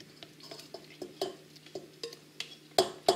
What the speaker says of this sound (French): Hop, on vient mélanger tout ça.